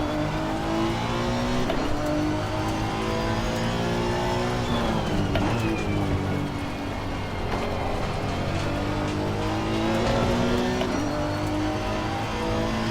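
Honda NSX GT3 race engine in Assetto Corsa Competizione at Catalunya, loud and steady under throttle, its tone rising and dipping through gear changes and lifts, with a faint tire squeal.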